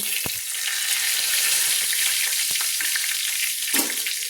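Two bay leaves frying in oil in a pan for a mixed vegetable curry, stirred with a spatula; a loud, steady close sizzle runs throughout, broken by a few sharp scrapes and knocks of the spatula.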